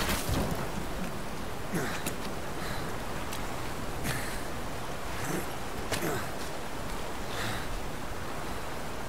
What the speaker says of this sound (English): Wait, it's raining now?